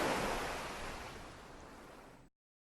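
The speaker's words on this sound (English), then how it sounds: "the sound of the ebbing and flowing water moves around naturally and sounds amazing" Shoreline water ebbing and flowing on a beach in the video game Towers of Aghasba, a broad steady surf wash that is loud at first and slowly fades before cutting off abruptly, with no speech.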